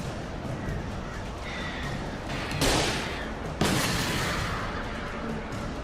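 Dense rumbling background with two sharp, loud gunshots a second apart in the video game Alan Wake, the second followed by a lingering roar.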